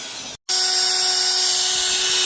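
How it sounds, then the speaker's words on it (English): Power drill boring with a one-inch bit that is not very sharp, a loud steady high whine that cuts out for a moment, then resumes at full strength. "The drill's getting hot, so I'm giving it a break."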